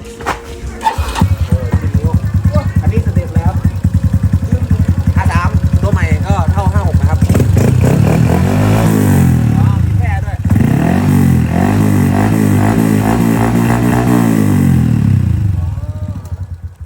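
An Indonesian-style custom motorcycle engine runs loud and close, with repeated revving sweeps rising and falling over a rough idle, and voices heard at times.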